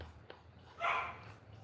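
A single short bark rings out from downstairs in a house, muffled and fairly distant, followed by quieter room noise and a low background hum.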